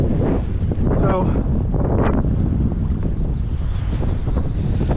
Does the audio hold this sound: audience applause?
no